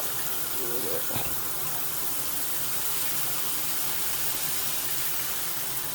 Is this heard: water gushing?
yes